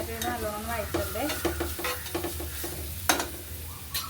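Carrots sauté in a pan under a continuous sizzle as a utensil stirs them with repeated scraping strokes and occasional sharper knocks against the pan, close and fairly busy.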